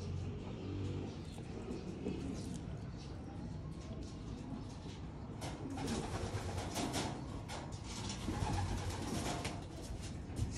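Pigeons coo softly at a distance throughout a breeding loft, mixed into a steady background of traffic hum and other bird calls, with a voice talking over it.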